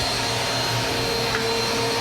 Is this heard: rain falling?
no